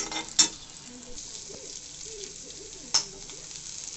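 Grated coconut is dry-roasted in a pan until lightly golden, giving a soft, faint sizzle with two sharp clinks of a utensil against the pan.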